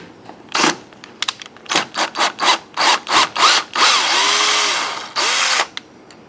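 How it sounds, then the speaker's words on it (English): Electric screwdriver backing out a stripped screw from a door deadbolt, a run of short whirring pulses followed by a longer continuous spin and two final bursts, close and loud. "I'm going to try using the electric screwdriver to try to take it out."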